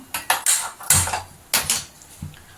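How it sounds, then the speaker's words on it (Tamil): A metal kadai, a frying pan, set down on a kitchen stove for frying pakoda, with several sharp clanks and scrapes of metal cookware, close and fairly loud, with no talking. "அதுக்கு அடுப்பத்தை வச்சு வடைச்சட்டி வச்சுக்கலாம்."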